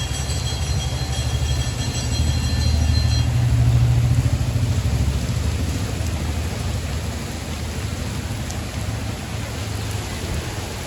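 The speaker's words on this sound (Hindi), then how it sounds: "देखो कितनी तेज बारिश है, यहाँ भी बूंदे आ रही हैं" Heavy rain pours in a constant, dense roar with a low rumble underneath, steady for the whole stretch and without any voices.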